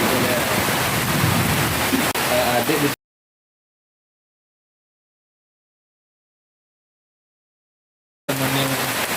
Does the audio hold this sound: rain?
yes